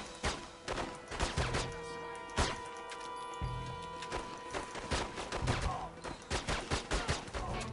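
Video game gunfire in The Godfather II, with repeated sharp shots and short bursts rattling through a busy mix, loud and close, alongside background game sound.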